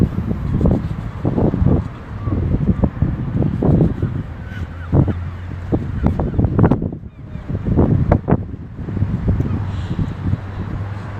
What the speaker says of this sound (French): le son, désolé, il y a du vent